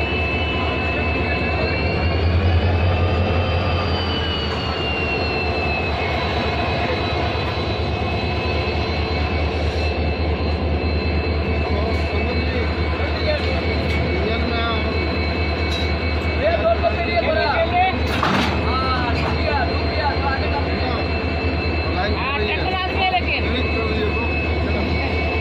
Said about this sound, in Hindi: डीजल लोकोमोटिव आगे चल रही है